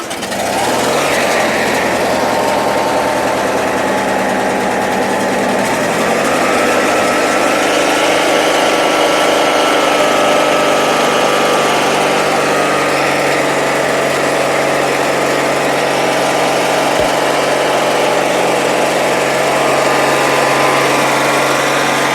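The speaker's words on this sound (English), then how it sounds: "This is a Mowers and Blowers engine rebuild." A rebuilt lawn tractor engine of about 42 or 46 cubic inches runs steadily and loudly up close, holding an even idle-to-mid speed drone throughout with no voices.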